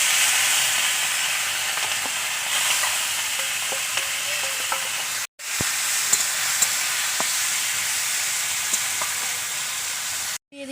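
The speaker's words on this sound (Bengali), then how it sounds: "মাছটা আমি ভেজে নেব কড়া করে ভাজতে হয়" Small fish frying crisply in hot oil for a mango sour dish, giving a loud, continuous close-up sizzle with a few faint ticks and two brief cuts to silence.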